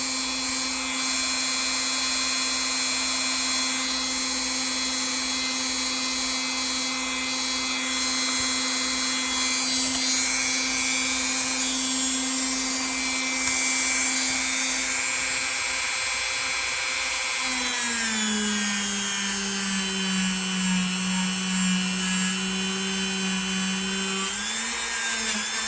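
Rotary tool spinning at high speed with a less aggressive accessory grinding heavy rust off metal, a loud continuous whine whose pitch drops and shifts as load changes partway through, close up and uninterrupted.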